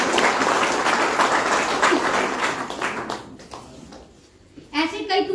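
Audience clapping at a sales success meeting where a neem and clove toothpaste is being pitched: dense, steady applause for about three and a half seconds that thins out, followed by someone speaking.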